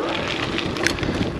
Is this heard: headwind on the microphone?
yes